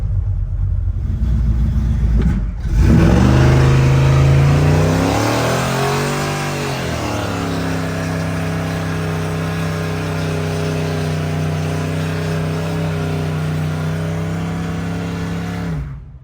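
A 1977 Chevy C10 engine revs hard and loud up close, climbing sharply then settling into a strong steady rumble that holds for over ten seconds, with no talking.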